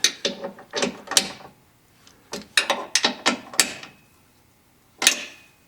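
Ratchet snugging down the three bolts of the fuel filter skid plate on a Jeep Ecodiesel JL/JT, close clicking bursts in quick repeated strokes, pausing, then one final burst.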